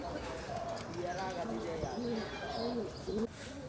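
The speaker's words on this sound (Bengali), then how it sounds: "এগুলো হচ্ছে রেসার কবুতর" Racing pigeons coo inside a loft, with soft, low, rolling calls repeating steadily throughout against a constant background hum.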